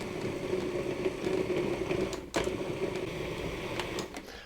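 A food processor pulses butter into flour for biscuits with a steady whirring motor hum, a brief break near the middle, then the whir resumes until it winds down.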